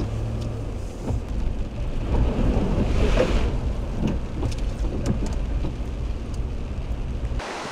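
Rain falls at Lecky Subdivision Beach in Darnley, Prince Edward Island, as a steady, fairly loud broadband hiss and rumble that continues without voices and then cuts off abruptly.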